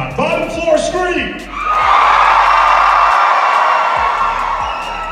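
An audience on the bottom floor of a haunted house breaks into loud, sustained screaming and cheering after a shouted prompt, the crowd noise holding steady for several seconds.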